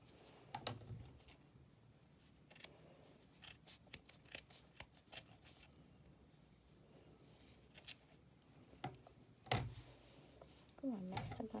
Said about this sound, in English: I'm going to cut it at the top again.